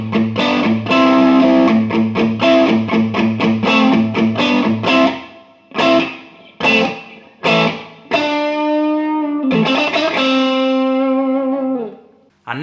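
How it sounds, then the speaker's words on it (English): A guitar driven through a Bob Burt Overdrive pedal strums a dirty, distorted rhythm of rapid chords, then a few separated hits and long sustained notes with reverb tails, loud and up close. "a dirtier signal using the Bob Burt Overdrive"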